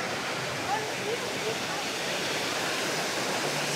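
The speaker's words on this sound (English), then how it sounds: "It's pretty wild, raging rapids." Waterfall and raging rapids on the Grizzly Peak ride area at Disney's California Adventure at night, a steady, loud broadband roar of rushing water filling the whole clip with no clear breaks.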